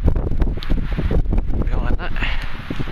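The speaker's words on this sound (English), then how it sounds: "It's definitely windy and chilly where the sun isn't" Cold early-morning wind buffets the microphone on a sandy beach at Margate at sunrise, a loud, rough rumble running throughout under a man's speech.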